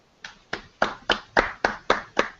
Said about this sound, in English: Clapping on cue.